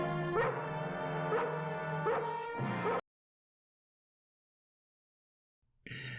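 A collie dog barks and whimpers in a rapid series of yips for about three seconds, close and loud, then silence, then a brief bright burst at the end.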